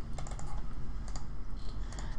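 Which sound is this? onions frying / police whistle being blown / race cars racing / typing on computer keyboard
typing on computer keyboard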